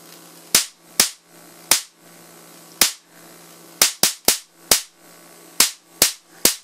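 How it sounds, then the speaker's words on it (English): Loud, sharp high-voltage arcs from a neon sign transformer with a voltage multiplier, fed 140 volts through a variac, crack in an irregular series of about a dozen snapping bursts, each a harsh broadband crack with brief gaps of hum between. "These are loud, nasty arcs in person."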